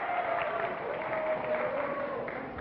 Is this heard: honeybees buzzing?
no